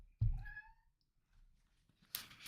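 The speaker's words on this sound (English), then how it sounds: "The cat is protesting." A cat lets out one drawn-out, protesting meow close by, then quiet, with a brief rustle at the end.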